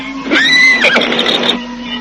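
A horse lets out a loud, close whinny with a rising then wavering, shaky tone lasting about a second, over a faint steady background hum.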